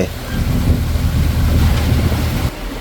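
A boat cruises along the Mekong River between Huay Xai and Vientiane, giving a steady rumbling engine and water rush with wind buffeting the microphone and no talking.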